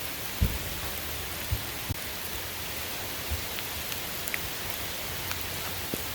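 Rain falls steadily on a flooded RV campsite under trees, a soft even hiss with occasional heavier drops tapping nearby surfaces and no voices.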